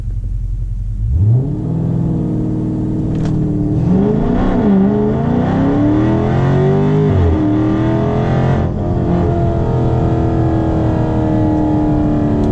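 A Dodge Charger Scat Pack makes a 0-60 launch-control run. Its engine surges and climbs through rising revs, dips at each gear shift, and then settles into a loud sustained roar close to the listener.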